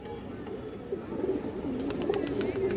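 A silver khaki male pigeon coos softly and repeatedly, low rolling calls close by against a quiet background.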